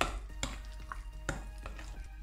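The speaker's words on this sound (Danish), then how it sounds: "Jeg rører lige rundt, så saltet og peberet bliver fordelt hernede" A spoon stirs salt and pepper into a pot of pea cream, with a few sharp scrapes and taps against the pan over a low background hum, no voices.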